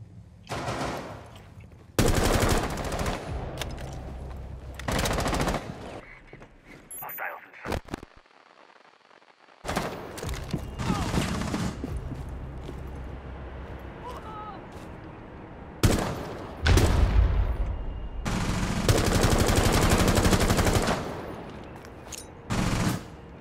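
Heavy rifle and automatic gunfire from the tactical shooter Rainbow Six Siege comes in long loud bursts separated by short quiet gaps, with occasional voices among the shots.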